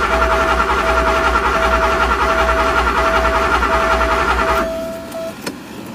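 A Porsche 928 V8 running on its first start in over 15 years, idling loud and steady with a fluttering, uneven pulse and a faint whine, then cutting out abruptly near the end, leaving quieter background.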